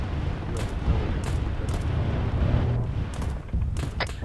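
Explosions pound a bunker area in the military shooter Arma 3, a continuous rumbling barrage of low booms with several sharper blasts standing out over a dense, steady roar.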